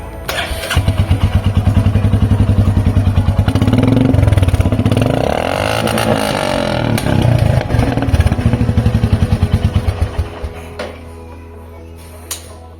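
A Royal Enfield Meteor 350 motorcycle with its dB killer removed starts and idles with a loud, rapid popping exhaust, revving up and down several times before settling and cutting off.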